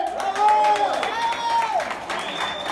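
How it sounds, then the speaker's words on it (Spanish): Live crowd applause with cheering greets wrestler Lady Apache at a wrestling expo, a dense wash of clapping throughout while an announcer's voice rises over it through the middle. "Fuerte el aplauso para Lady Apache"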